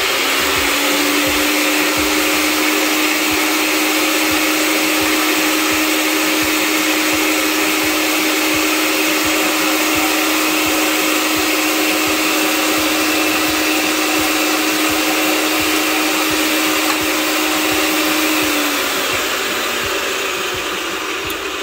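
A pipe threading machine threading gas pipe runs steadily with a loud, continuous motor whine and a grinding mechanical drone, close and unbroken, easing off slightly at the end.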